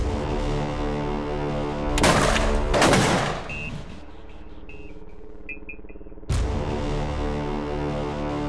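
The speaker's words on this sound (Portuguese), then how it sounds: "Os policiais chegam na entrada da comunidade e são recebidos a tiros" Gunfire during a police shootout at the entrance to a community: a loud cluster of rapid shots, a pause with faint high tones, then another sharp, loud burst of shots.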